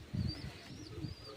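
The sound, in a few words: pigeons cooing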